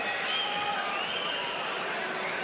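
Steady crowd roar at a 1990 world-title boxing bout between Michael Watson and Mike McCallum, a continuous dense wash of voices filling the arena without breaks, with a commentator's voice faintly present.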